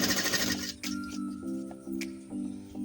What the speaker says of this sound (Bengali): এইভাবে আমি পুরোটা সেলাই করে নিচ্ছি।